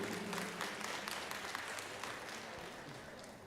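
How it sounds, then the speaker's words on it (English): Audience applause for two junior 4-H showmen at a junior beef showmanship livestock show, a continuous patter of many hands in a large, echoing arena, fairly distant and gradually tapering. "let's give a round of applause here for our 2 junior showmen in our 4-H division"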